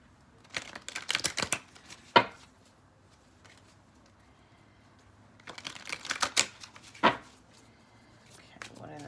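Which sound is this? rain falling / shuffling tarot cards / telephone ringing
shuffling tarot cards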